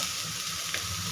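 Green chillies with a pinch of turmeric sauté in a pan, giving a soft, steady sizzle that stays even and fairly quiet throughout.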